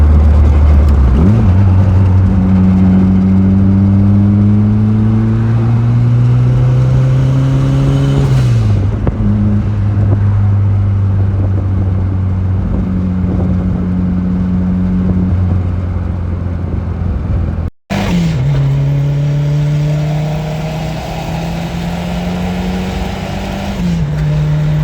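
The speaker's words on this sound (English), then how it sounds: "it makes really cool turbo noises" A turbocharged 1993 Nissan 240 with a welded diff revs hard and loud nearby, engine pitch climbing and falling through repeated pulls with a brief cut in the middle, turbo whooshing over the steady roar.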